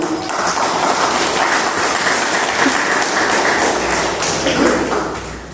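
Audience applause at a stage event where performers are called up during a Marathi film function: a dense, steady wash of clapping that continues for the whole stretch with no voices above it.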